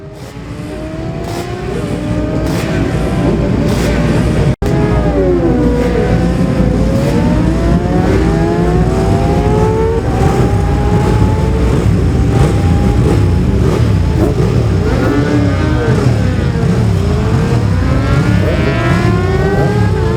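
A 250 Honda classic TT racing motorcycle screams loudly at close range, its engine pitch rising and falling through repeated revs and gear changes over a sustained, dense roar with other bikes blending in.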